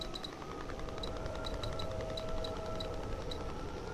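A steady buzzy electronic radio transmission signal in a Chernobyl VR game, with rapid regular clicks and a faint sustained tone over constant noise, moderately quiet.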